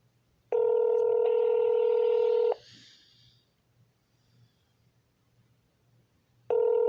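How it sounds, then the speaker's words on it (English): Telephone dialing tones come as two loud, steady, pure two-note beeps, each about two seconds long, separated by a quiet gap with a faint low hum underneath. "Okay, let me call another city."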